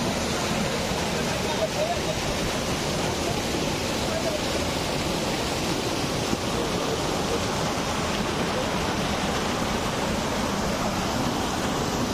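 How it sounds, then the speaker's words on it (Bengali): Water at Shoilopropat waterfall rushes as a continuous broadband wash, steady and fairly close, with muffled voices mixed in beneath the flow. "এত সুন্দর ঝর্ণা আর পানির শব্দ"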